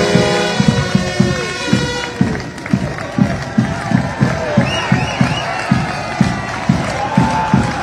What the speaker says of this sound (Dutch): geklap, gejuich wordt er.